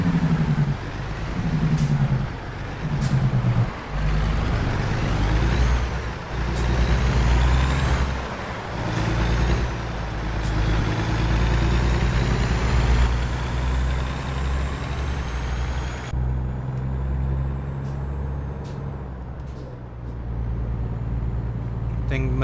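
Heavy diesel truck engine in American Truck Simulator droning and labouring uphill with a loaded trailer, a deep steady rumble under occasional talk, with shifting engine tones and brief hissing bursts.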